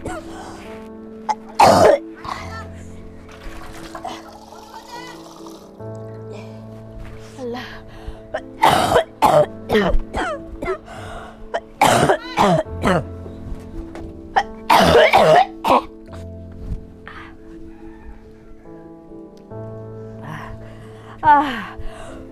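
A person with a persistent cough repeatedly coughs and clears their throat in sharp, close bursts spread across the stretch, over a steady low background tone.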